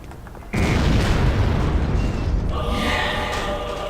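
A brick of C4 detonates in the video game Freedom Fighters beside exposed gasoline, a sudden loud boom that rolls into a sustained roaring rumble with crackling debris.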